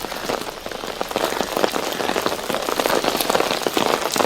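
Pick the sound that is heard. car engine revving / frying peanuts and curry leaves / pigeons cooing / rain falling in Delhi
rain falling in Delhi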